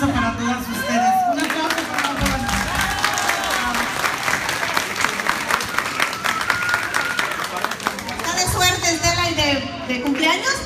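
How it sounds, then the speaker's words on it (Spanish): An audience at a Princess House consultants' gathering in Stockton, California bursts into sustained applause, dense clapping mixed with cheers and crowd chatter, while a speaker talks over it at the start and end. "Un aplauso para todas ustedes."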